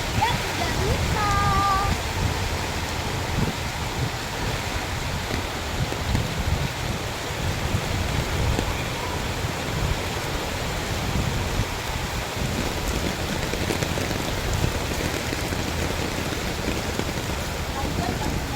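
Heavy rain pours down steadily at an outdoor play area with pools, a dense continuous patter and rush that holds even throughout, with people talking faintly underneath.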